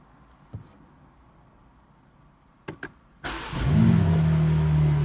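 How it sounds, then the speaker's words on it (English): A few soft clicks and thumps, then a BMW M4 Competition coupe engine cranks and fires up with a sharp burst, settling into a loud, deep idle. "We'll start the car up now and check out how it sounds in the different modes."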